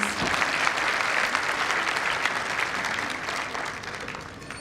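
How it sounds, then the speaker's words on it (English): Dense audience applause at a university convocation ceremony in India, a steady wash of many hands clapping that holds loud throughout and tapers only slightly toward the end. "May we have a round of applause, please?"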